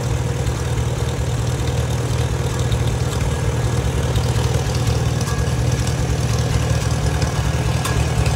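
A small engine idling steadily after a throttle linkage adjustment, a constant low, smooth running drone that holds even and close throughout with no voices.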